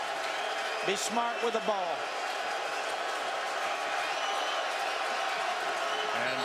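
Boise State home crowd at a 2015 college football game against Virginia, a steady roar of stadium noise under close commentary with a brief burst of whistles and shouts early on.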